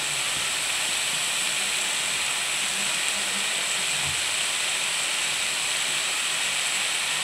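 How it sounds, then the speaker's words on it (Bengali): Potato and banana flower fried together in oil for a village-style dish give a steady, loud broadband hiss and sizzle that runs unbroken throughout, with no talking. "আলু আর কলার মোচাটাকে একসঙ্গে তেলের উপরে দিয়ে দিলাম"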